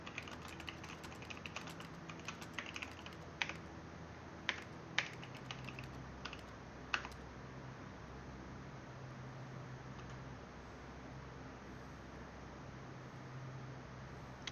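Typewriter-like key clacks from the video game Stories Untold come in quick irregular bursts of sharp taps, then stop, leaving a low steady hum. The sound is quiet and close.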